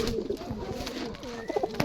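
Rajshahi Giribaz pigeons coo close by, a brief run of throaty, rolling calls with a few sharper notes near the end.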